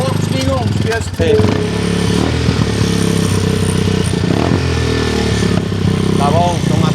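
A custom-built motorcycle engine runs steadily at close range, a continuous throbbing rumble throughout, with a voice speaking over it.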